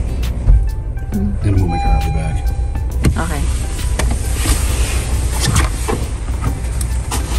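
A car engine idles steadily after a dead battery is jump-started, a low, constant rumble close by, with a brief whirring tone early on and people talking over it.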